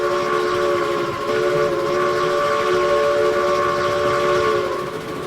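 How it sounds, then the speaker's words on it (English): A freight locomotive runs steadily at about 30 mph in the RailRoads Online game, its sustained tonal hum and rumble continuous and fairly loud throughout with no talking. "Freight train."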